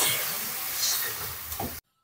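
Water hits a hot pan of fried spices and potatoes for a spicy tangra fish curry, giving a loud, continuous steamy hiss that fades slightly before cutting off abruptly.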